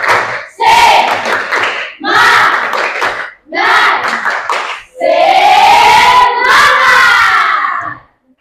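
Students at SMK 6 Ambon doing a rhythmic spirit clap in loud, close bursts of clapping and shouting, four distinct sections separated by brief pauses, the last one longer and stronger with voices chanting together.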